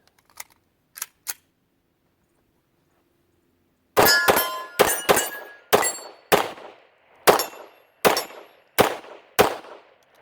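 Pistol shots from a Sig X5 Legion ring a steel target, several sharp bangs each followed by a bright metallic clang, spaced about half a second apart after a few faint clicks.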